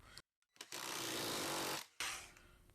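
A Milwaukee M12 cordless power hammer driving a nail gives a loud, close, rapid hammering burst lasting over a second. Brief short bursts come before it, and another short burst follows after a pause.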